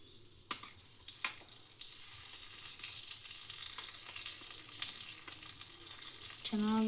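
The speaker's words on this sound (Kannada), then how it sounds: "ಚೆನ್ನಾಗಿ ಈ ಥರ ಎಣ್ಣೆಲಿ ಫ್ರೈ ಆಗಬೇಕು." Mustard seeds, curry leaves and asafoetida sizzle and crackle in hot ghee, a steady soft frying hiss with scattered pops and stirring, no voices.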